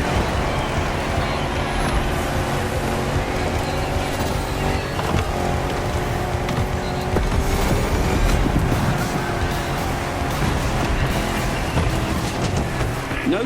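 4x4 car racing through jungle in The Crew Motorfest: a continuous loud engine roar with rumbling terrain noise and shifting revs, brief voice in the background.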